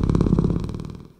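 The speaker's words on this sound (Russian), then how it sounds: "И даже мурчание кота." A close, layered cat purr built for sound design, a low rumbling buzz pulsing in quick rhythmic waves before fading out at the end.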